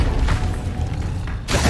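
Confringo fire spell exploding in Hogwarts Legacy: a sustained low, booming rumble with a brief whoosh near the start and a sharp crashing burst at the very end.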